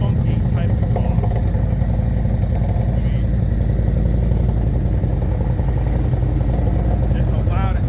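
A loud aftermarket exhaust drones on a running vehicle engine, a continuous deep rumble held close and steady throughout, with faint voices in the background.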